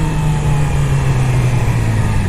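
A Yamaha R6 motorcycle engine drones loud and close with a steady throbbing tone that dips slightly in pitch partway through, as if matching revs on a downshift; nobody talks over it.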